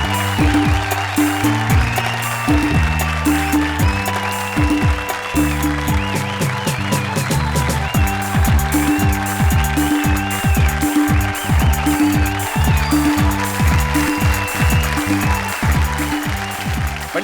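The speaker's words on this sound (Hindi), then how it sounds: "जोरदार तालियां पंडित विश्वेश्वर शर्मा के लिए।" Loud, sustained applause for Pandit Vishweshwar Sharma at a stage poetry competition, running steadily for the whole stretch over rhythmic music with drums.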